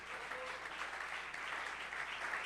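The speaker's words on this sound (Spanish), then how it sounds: "Fuerte ese aplauso al Señor." A church congregation applauds, a steady dense wash of clapping from many hands heard at a distance, fairly quiet and without speech.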